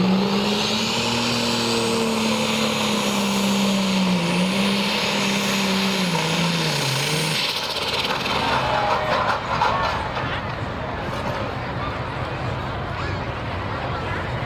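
A John Deere tractor roars loudly down the track at a truck and tractor pull, engine pitch rising and then dropping as it strains, followed by a rough, broadband rumble with crowd and announcer noise underneath.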